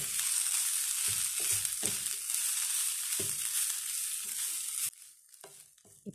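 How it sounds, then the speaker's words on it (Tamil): Half a cup of grated coconut fries in a pan for a karivepilai chutney, giving a steady close sizzle with scattered scraping stirs, then the sizzle drops off abruptly near the end as the stove is switched off. "அரை கப்பு தேங்காய் 1 மினிட்டு ஃப்ரை பண்ணிவிட்டு நான் ஸ்டவ் ஆஃப் பண்ணிக்கிறேன்."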